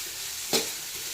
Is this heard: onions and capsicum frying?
yes